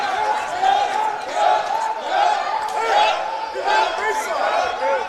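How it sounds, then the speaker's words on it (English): Home crowd at a Reinhardt Eagles college basketball game cheering in loud, sustained waves of shouts and chants that rise and fall across the clip, filling the gym. "the Reinhardt crowd having a little bit of fun cheering on their hometown Eagles"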